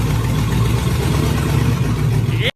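A 1952 bulldozer engine rumbles steadily in gear at a low, even idle-like chug, loud and close, then cuts off abruptly at the end.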